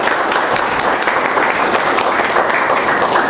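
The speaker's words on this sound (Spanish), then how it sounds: "Démosle ese fuerte aplauso de bienvenida." Church congregation giving a strong welcoming round of applause during a service, dense close clapping that holds steady and loud throughout.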